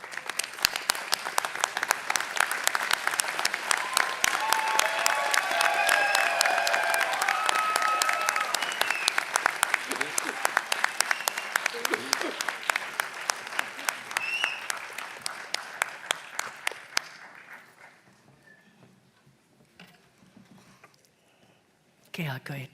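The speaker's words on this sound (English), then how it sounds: "why don't we all stand up and applaud our friends, family, absent and present, for all of their help and support and love." An audience at a doctoral hooding ceremony stands and applauds, dense sustained clapping that fills the hall for about seventeen seconds before thinning to scattered claps and quiet murmuring.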